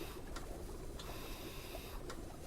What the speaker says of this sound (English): The furniture printer. That thing... It's loud, and frankly, really annoying.